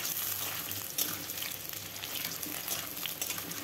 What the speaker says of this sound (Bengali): আলুগুলো আমি কিছুক্ষণ সময় ধরে ভেজে নেব।